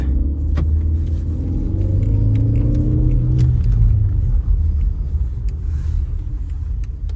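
An agricultural vehicle driving along its track in a field, a loud, steady low engine rumble heard from close, with a few faint clicks and no talk.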